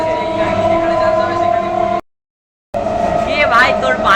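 A moving passenger train heard from inside the carriage, with a loud steady rumble and tonal hum, a brief dropout of silence, then the rolling noise resumes with a squealing rise.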